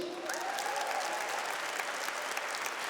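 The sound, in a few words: audience applause at a sermon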